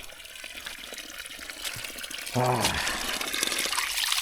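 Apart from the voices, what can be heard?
fresh spring water flowing near a waterfall, touched by hand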